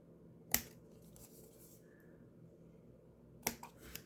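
Scissors trim the edges of a handmade card with two crisp, separate snips about three seconds apart. They sound close in a quiet room, with a faint rustle between the cuts.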